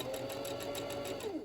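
Sewing machine running parallel stitching on wrap pants, a steady motor hum with rapid even needle clatter, close and continuous.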